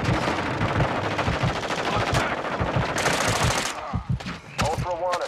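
Machine gun fire rattles in Call of Duty in rapid, steady bursts of close, loud shots. Sharp single cracks and brief game sounds follow as the firing breaks up near the end.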